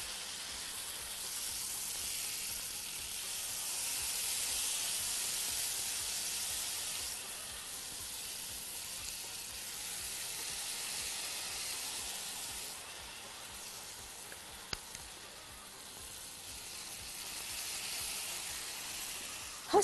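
Chicken pieces sizzle on a hot grill pan, a soft, steady hiss swelling and easing over twenty seconds, with a few faint clicks and no voices.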